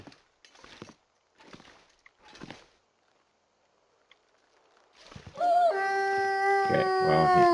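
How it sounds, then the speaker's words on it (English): A wolf in the survival game The Long Dark howls in a long, loud, wavering tone that rises and holds for a couple of seconds. Earlier, a few muffled footstep-like thumps sound in quiet surroundings. "while he is howling, is the time to make a run for it."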